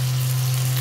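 Potatoes fry with salt and turmeric in a pan, a short burst of dense steady sizzle over a constant low hum.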